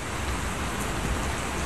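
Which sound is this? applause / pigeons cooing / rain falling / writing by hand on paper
rain falling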